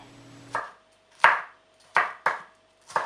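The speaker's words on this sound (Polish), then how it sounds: "Kroimy w paski, a następnie w kostkę." Chili pepper being cut into strips and cubes on a board: five sharp, separate knife chops at uneven spacing, close and crisp, with quiet pauses in between.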